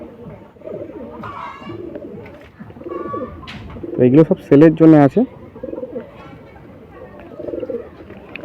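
Madrasi pigeons housed at home for sale coo in deep, throaty bursts, loudest in the middle of the clip, while someone talks close by over the birds.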